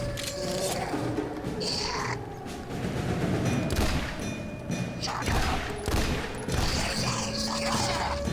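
Gunfire in XCOM The Bureau comes as several sharp shots and short bursts scattered among mechanical clanks and creaks, fairly loud against a busy game soundscape.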